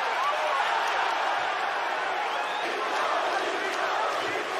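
A boxing arena crowd roars and cheers for Tony Yoka in a continuous dense wash of voices, loud and steady, with shouts rising from the mass.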